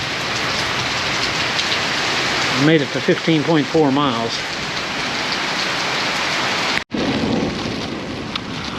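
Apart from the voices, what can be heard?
rain falling, windy weather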